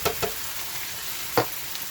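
Canned diced tomatoes going into a sizzling ground meat mixture in a pan, a soft steady sizzle broken by a few quick stirring scrapes and taps, close and moderately quiet with no talking.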